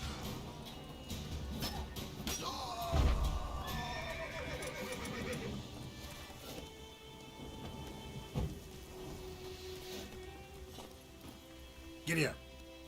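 Horse from The Witcher 3 neighing loudly alongside steady clip-clop hoofbeats, with rain and a distant rumble of thunder underneath and a voice speaking briefly.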